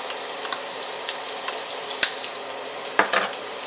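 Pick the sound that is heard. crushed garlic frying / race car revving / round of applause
crushed garlic frying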